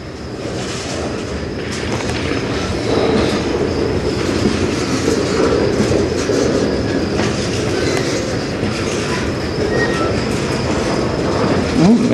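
A CN manifest freight train hauled by locomotives 3899 and 2843 rolls past on the Strathroy Subdivision, with steady clattering wheels and rumbling cars close by. The sound stays loud and continuous throughout, with a faint squeal near the end.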